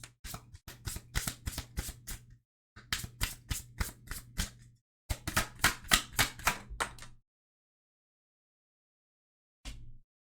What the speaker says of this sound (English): let's go ahead and get some karma cards and see what insights spirit has for you